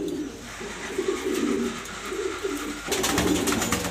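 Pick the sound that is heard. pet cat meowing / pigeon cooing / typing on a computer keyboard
pigeon cooing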